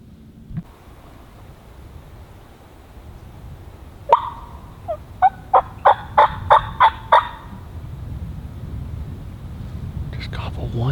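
A wild turkey gobbles once, then a rapid string of rattling gobble notes rises out of a quiet outdoor morning, with soft whispering nearby.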